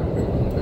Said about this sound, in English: Wait, there's a train.